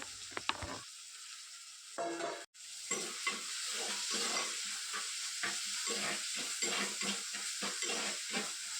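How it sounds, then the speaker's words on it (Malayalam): Crushed spices dropped into hot oil and sautéed, a sharp burst of sizzling after a brief silence, then continuous frying with rhythmic stirring scrapes, close and alone. "അപ്പോൾ എണ്ണ ചൂടായി വന്നിട്ടുണ്ട് നമുക്ക് അതിലോട്ട് നമ്മൾ ചതച്ച് വെച്ചിരിക്കുന്ന സാധനങ്ങളൊക്കെ ഇട്ട് കൊടുത്ത് വഴറ്റിയെടുക്കാം"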